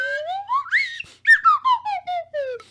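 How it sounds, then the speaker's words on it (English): A slide whistle glides upward in pitch, then breaks into a series of short descending swoops and toots, played alone and fairly close. "the holy slide whistle"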